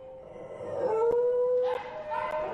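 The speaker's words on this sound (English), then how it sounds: "Listen to him howling." A dog in a kennel howls in a long, rising and falling wail, close and fairly loud, with a shorter whining howl following after a brief break.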